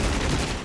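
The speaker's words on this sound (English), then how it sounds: "Cluster ammunition is coming in." Cluster ammunition bursts in a war video game, a dense rapid crackle of overlapping explosions filling a brief, loud moment.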